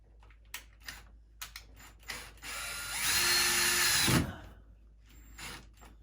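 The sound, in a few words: power drill driving a screw into wood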